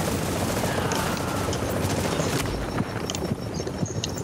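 Dense gunfire and distant bursts from a Dark Zone firefight in the video game The Division, a loud continuous roar of shots and effects with no voices over it.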